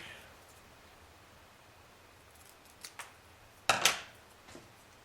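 Scissors snip through a strip of double-sided sticky tape: a few light clicks, then a sharper, louder double cut and a faint final snip over quiet room noise.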